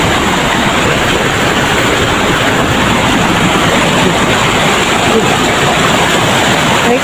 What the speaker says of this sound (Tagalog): May sapa na naman.